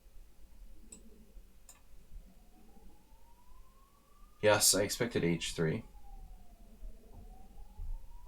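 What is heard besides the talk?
ambulance sirens passing outside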